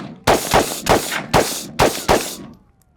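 Six loud, sharp rifle shots from an AK/AR hybrid rifle fired at steel targets, spaced roughly every half second, each with a ringing tail, the last fading out.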